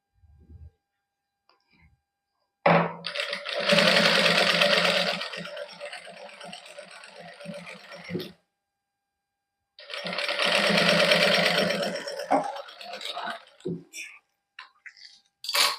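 A sewing machine stitches lace onto a suit in two sustained bursts of rapid whirring, close and loud, separated by pauses with light handling noises.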